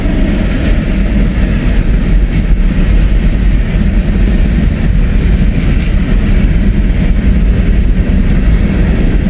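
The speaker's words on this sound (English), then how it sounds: "This is a Norfolk Southern train." A Norfolk Southern freight train rolls past loudly and continuously, wheels rumbling and clattering over the rails and a diamond crossing close by, in a small Indiana town.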